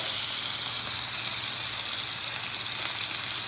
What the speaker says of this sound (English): You want to hear that big sizzle.